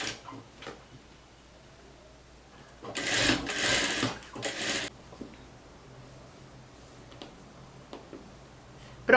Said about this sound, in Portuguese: Você vai costurar, costurar e fazer acabamento.